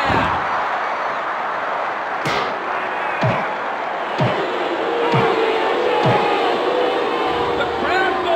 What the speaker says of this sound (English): The crowd goes crazy. I can hardly hear myself talk.